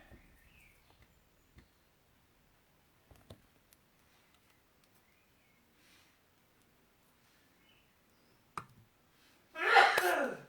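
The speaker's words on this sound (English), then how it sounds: "excuse me if you could hear my husband having a sneeze" A single loud sneeze from a man bursts out near the end, following a long stretch of near silence broken only by faint clicks and taps.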